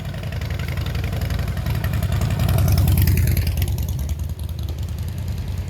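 Street traffic in St. Augustine, Florida, with a steady rumble of idling and revving car and motorbike engines that swells to a peak midway and then eases, close and continuous with no talk.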